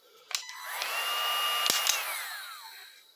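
A DeWALT 20V Max cordless heat gun blows a steady, close airy whoosh with a thin motor whine, with a couple of faint clicks near the start and a sharp tap midway.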